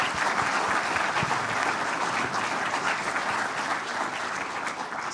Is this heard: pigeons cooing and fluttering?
no